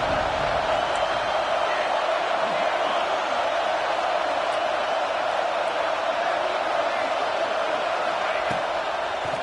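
A packed Ohio State football stadium crowd roars in a steady, loud, unbroken wall of cheering noise that continues from start to finish.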